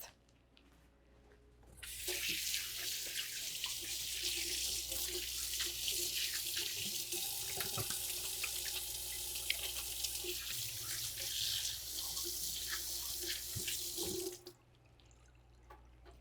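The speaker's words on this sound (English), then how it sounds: "I'm going to wash my hands as soon as I finish this before I actually cook them" Tap water runs into a kitchen sink for hand washing, a steady bright hiss that starts abruptly, continues for about twelve seconds and then cuts off, with faint clinks in the background.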